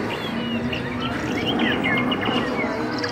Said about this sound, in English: they can hear the birds tweeting and stuff